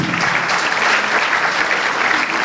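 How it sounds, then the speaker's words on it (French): A crowd applauds steadily for the Ivory Coast's football trophy, dense even clapping held at one level throughout. "Il faut vous applaudir, c'est votre trophée"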